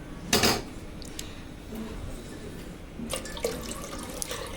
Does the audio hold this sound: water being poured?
yes